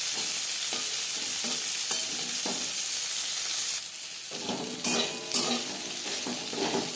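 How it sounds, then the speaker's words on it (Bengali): Bitter gourd slices frying in oil in a pan and being stirred, a steady close sizzle broken by repeated scraping strokes of a spatula, the stirring growing busier and louder toward the end. "উচ্ছে ভাজা হয়ে গেছে"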